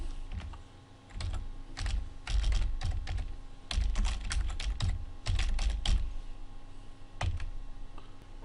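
Typing keyboard shortcuts on a computer keyboard, with dense clattering runs of keystrokes separated by short pauses over a steady background hum, with no voices.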